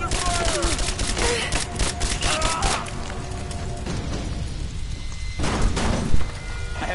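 Gunfire in the video game Rise of the Tomb Raider, a dense stretch of rapid shots and bursts that stays loud throughout, with game voices calling out over the shooting.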